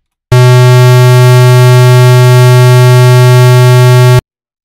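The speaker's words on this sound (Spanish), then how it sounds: "Literalmente es una onda en forma de cuadro." A steady, buzzy synthesized square wave tone holds at one pitch for about four seconds, loud and harsh, then cuts off abruptly.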